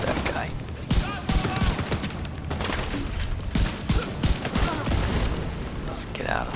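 Gunfire in the video game The Division 2 during a heroic mission, dense overlapping rifle and automatic shots with booms in a continuous firefight, while a player talks over the action.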